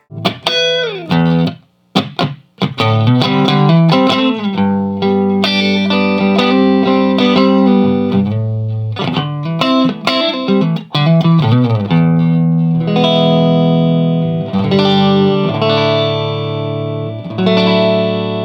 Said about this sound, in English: You can also flip the controls around and get a great clean tone as well.